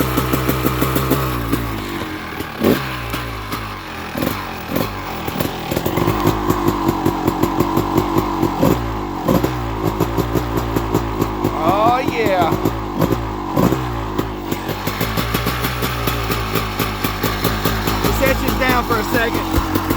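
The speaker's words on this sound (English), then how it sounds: "so it's revving super high right now." A 1990s-2000s dirt bike, a CR250 or CRF450R, revs high with the choke on, a loud buzzing engine with rapid throttle blips and a steady fast idle, while people talk nearby.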